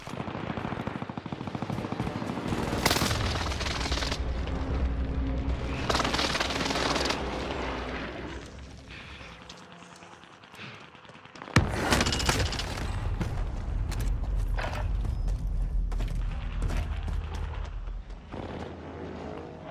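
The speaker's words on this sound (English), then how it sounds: "Enemy precision airstrike." Precision airstrike explosions in Call of Duty Warzone on Rebirth Island come as heavy booming blasts mixed with rapid gunfire crackle, loud and dense in two long bursts separated by a quieter lull.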